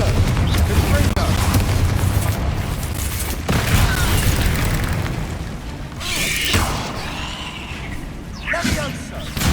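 Confringo spell blasts explode in Hogwarts Legacy, several deep booms and bursts in quick succession, loud and close. A voice speaks over the combat between blasts.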